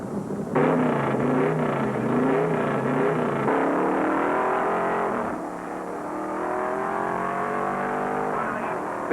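Pack of 1973 NASCAR stock cars racing around the fourth turn at Charlotte Motor Speedway, engines roaring loud and continuous with rising pitch as the field accelerates, no one talking.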